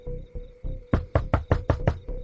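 Knocking on a door, a few soft raps followed by a quick run of six loud, firm knocks, close and evenly spaced over a low steady hum.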